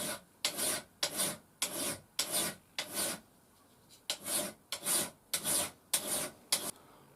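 A Mora knife is drawn over an extra coarse black TMT Diafold diamond sharpener in about eleven steady, evenly spaced rasping strokes, close and crisp, with short pauses between them and no talking.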